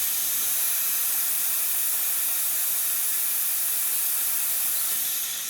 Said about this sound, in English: Letting some of the steam out.